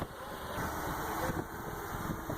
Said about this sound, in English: The Oshkosh M1070 is equipped with a powerful Caterpillar C18 diesel engine, producing 700 horsepower.